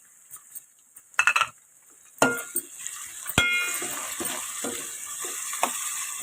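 Mint leaves fry in oil for chicken biryani, giving a quiet, continuous sizzle. Sharp clinks of a utensil against the pan and stirring scrapes break through it.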